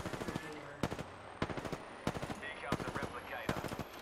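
Automatic gunfire in the Apex Legends video game, bursts of rapid shots repeating in several short volleys, with a player talking over the shooting.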